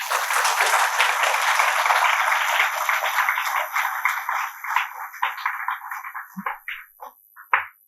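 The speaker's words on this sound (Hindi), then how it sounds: "सबके लिए एक बार जोरदार ताली बजा दीजिए आप" Audience applause at a coaching institute's orientation session, a dense wash of many hands clapping that fades over several seconds into scattered claps.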